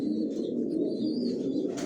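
Young racing pigeon squabs of the Johnson line coo softly in a loft, low steady murmuring calls close by with a faint chirp at the end.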